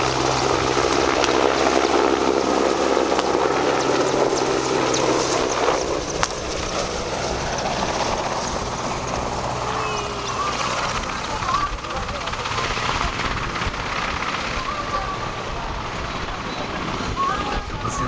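An AgustaWestland EH-101 Merlin helicopter flies during combat training, its engine and rotor roar strong at first and then easing into a steady whine and wash, heard without speech.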